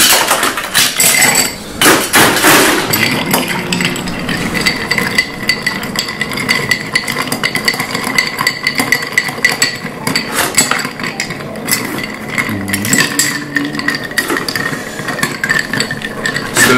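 Ice being cracked for an El Presidente cocktail at a Copenhagen bar, heard as loud, steady, repeated hard knocks and clinks over a constant background hum, with no talking.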